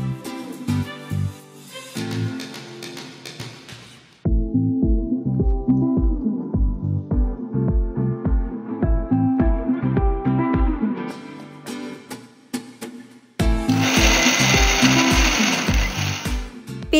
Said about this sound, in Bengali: প্রথমবারে পেস্টের সময় কড়াইশুঁটির সাথে কিছুটা ধনেপাতা, কয়েকটা কাঁচা লঙ্কা আর একটু জল দিয়ে ভালো করে পেস্ট করে নেব